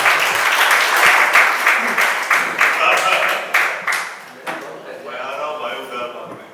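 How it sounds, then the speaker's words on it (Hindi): Loud, close audience applause welcoming a poet at a Hindi poetry and song gathering, individual claps distinct at first, then thinning and fading as a voice begins speaking. "जरा तालियों से स्वागत करिए"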